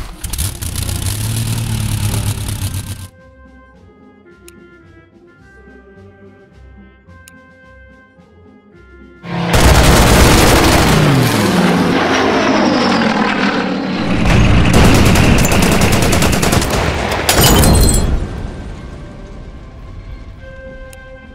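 In the WW2 strategy game Order of Battle, an aircraft strafes with machine guns: loud engine roar and dense rattling bursts come in two long blasts separated by a quieter musical lull.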